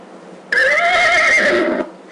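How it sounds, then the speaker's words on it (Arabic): A horse gives a single loud, close whinny lasting over a second, rising and then trailing off, heard on its own. "حصان"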